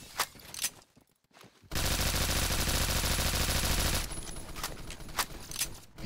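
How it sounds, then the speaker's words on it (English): Sustained video-game gunfire blasting out windows, a dense loud barrage lasting a few seconds, with scattered shots and brief quieter gaps around it. "Shoot out all the windows so they can see us easier."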